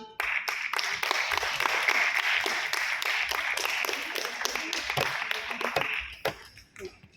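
An audience at an International Mother Tongue Day prize ceremony gives a loud round of applause, dense individual claps sustained for about six seconds before thinning out and fading.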